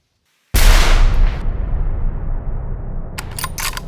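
A single loud, sharp gunshot from a Browning X-Bolt SF rifle during a hunt in Scotland, followed by a long rolling decay across open ground and a few faint clicks near the end.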